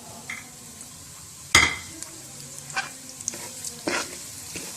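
Semolina roasts in a pan for sesame laddu: a soft sizzle and dry scraping from a stirring spoon, opening with one sharp metallic clink, then lighter scattered scrapes and taps, close by and with no voices.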